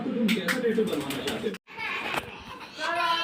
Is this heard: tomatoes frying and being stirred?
no